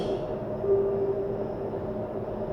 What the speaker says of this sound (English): This train terminates at this station